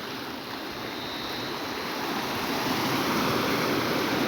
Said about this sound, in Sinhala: බලන්නකෝ ලස්සන ගල් වල හැපි රැල්ල එන විදිය